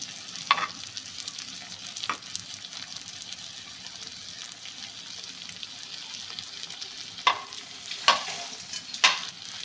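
Stuffed okra and leftover masala sizzle gently in a pan for bharli bhindi. A low, steady frying hiss runs throughout, broken by a few sharp scrapes of a spatula stirring.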